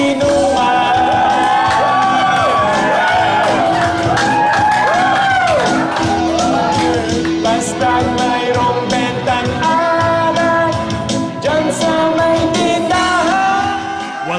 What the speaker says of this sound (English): I don't know if the crowd is cheering for me or for the basketball highlights on TV